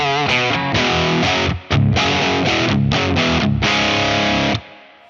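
Electric guitar played through a Victory VC35 The Copper amplifier with the gain cranked, thick distorted chords in short stabs and brief gaps, loud and close, ending with a sustained ring that fades out.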